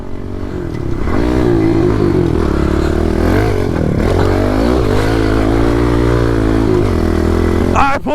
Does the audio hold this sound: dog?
no